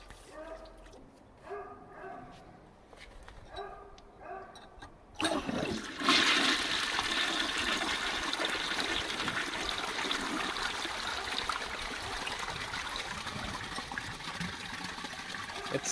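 A 1957 Peerless Forward Trap trailer toilet being flushed: after a few seconds of quieter, broken sounds, a loud, steady rush of water bursts in and keeps pouring and swirling nearby without letup to the end.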